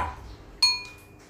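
A spoon clinks against a bowl, one faint tap followed by a sharp ringing chime that fades out slowly.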